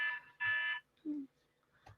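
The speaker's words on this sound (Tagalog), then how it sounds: "Sorry for the alarm class" An electronic fire alarm sounds during a class, giving loud, repeated harsh buzzing pulses with short gaps between them, and a voice is briefly audible amid the beeps.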